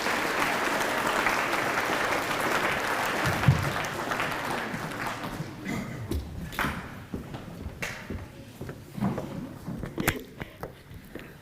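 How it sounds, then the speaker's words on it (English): Applause from a ceremony audience for student leaders at the Echuca Moama Beacon Foundation Pathways Pledge, full at first, then thinning into scattered individual claps that trail off toward the end. "Please give a round of applause to the 2023 Beacon student leaders"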